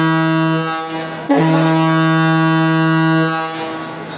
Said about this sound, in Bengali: বেশ দ্রুত গতির সাথেই কিন্তু ব্যাগার দিয়ে যাচ্ছে শুভরাজ নয়